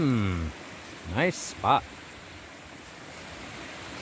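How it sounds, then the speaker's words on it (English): Creek flowing beside a hiking trail in Pennsylvania, a steady broadband rush of running water that continues throughout while someone speaks briefly over it. "We've been walking alongside this creek, which might be Heiner Run."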